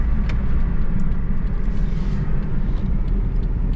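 A rebuilt salvage-auction car driving straight along a road, heard from inside as a loud, steady engine and tyre rumble with road noise throughout.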